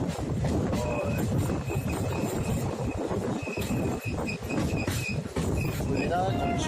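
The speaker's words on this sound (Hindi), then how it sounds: "गाड़ियाँ हमारी पूरी कर्व ले रही है यहाँ" The Chetak Express rolls through a curve on its run from Delhi to Ajmer, with a steady rumble of wheels on rails and recurring metallic squeals and squeaks from the wheels.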